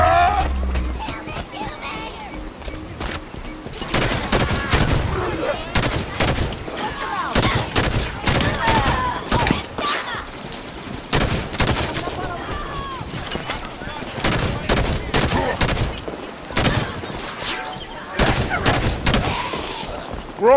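Sustained bursts of automatic gunfire from the Halo 5: Guardians video game, with repeated loud volleys through a dense battle soundscape and voices talking in the mix.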